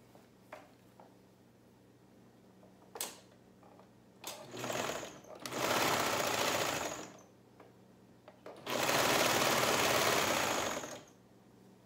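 A sewing machine stitches shirt cuffs in several bursts, a few short taps first, then two longer steady runs of rapid mechanical whirring, separated by quiet pauses.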